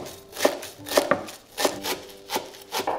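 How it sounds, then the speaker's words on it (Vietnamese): A knife chops lolot and perilla leaves on a cutting board in a slow, steady rhythm, about six distinct strikes, close and clear. "Lá lốt mình dùng khoảng 10 lá to, đem cắt nhỏ như thế này"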